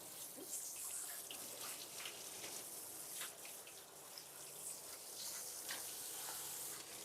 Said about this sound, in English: So I prefer just slightly going into the ear to rinse a bit.